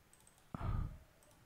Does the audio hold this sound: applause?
no